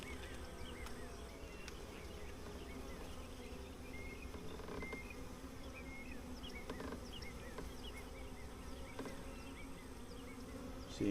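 Honey bees swarming around an open hive, a dense continuous buzzing hum that is faint and steady, with individual bees droning close by now and then.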